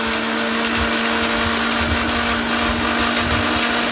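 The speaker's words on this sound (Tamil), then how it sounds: "இப்போ மிக்சி ஜாரில் சேர்த்துட்டு குறகுறப்பாக அரைச்சி எடுத்து வந்துடலாம்" A mixer grinder jar coarsely grinding soaked black kavuni rice, running loud and steady with a constant motor whine and gritty churning throughout.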